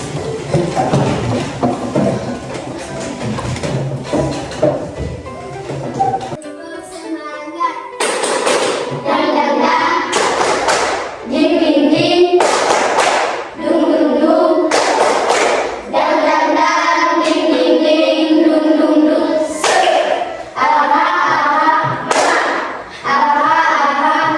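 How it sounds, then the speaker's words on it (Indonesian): Children in a classroom doing a rhythmic spirit clap, loud sharp clap bursts in a patterned rhythm with voices and chanting mixed throughout. "ayo berdiri, kita tepuk semangat dulu"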